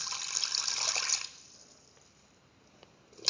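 A steady stream of 250 ml of water pours into a pressure cooker for about a second, then stops, leaving quiet with a few faint clinks.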